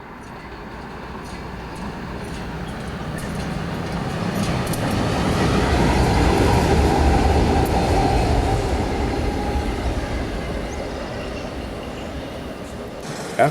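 A Conrail Mail 9 freight train, bound from Morrisville, Pennsylvania to Chicago, Illinois, rolls past, a rumbling roar of wheels and cars that builds, peaks midway, then slowly fades, with faint rail clatter throughout.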